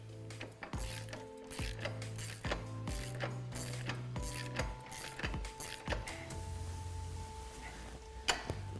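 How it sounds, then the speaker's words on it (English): Ratcheting socket wrench tightening an 18mm bolt on a FOX shock on a Jeep JK Wrangler, rapid close clicking in repeated strokes with metallic clinks. "we can get this tightened down with an 18mm socket and an 18mm wrench"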